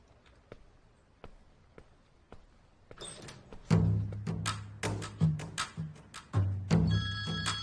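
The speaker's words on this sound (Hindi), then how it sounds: "मुझे लगा केमल भाई का फोन। नहीं नहीं, ये मेरी मॉम का है।" A mobile phone rings indoors with a repeating electronic tone that grows louder after a few seconds, mixed with thumps and handling noise close by.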